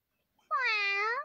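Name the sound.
person in kitty mask imitating a cat meow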